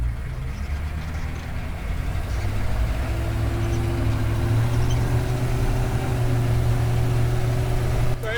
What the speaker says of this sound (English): it's pretty loud in the cabin of a real Humvee. No sound deadening, just metal on metal.